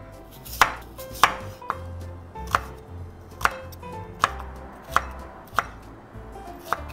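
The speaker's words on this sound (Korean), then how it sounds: "먼저 당근부터 좀 썰어 볼게요." A knife chops carrots on a cutting board in a kitchen, about ten crisp, evenly spaced thwacks ringing out close and clear over quiet background.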